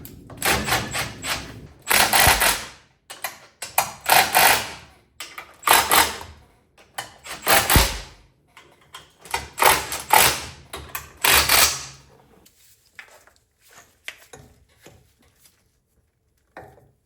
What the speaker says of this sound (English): Just gonna bolt it in for now.